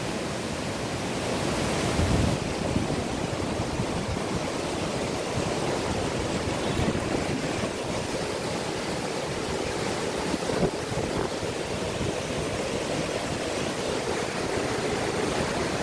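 Water from the hot spring at Manikaran in Himachal rushes steadily and fills the whole clip with a loud, even hiss and roar, with no voices.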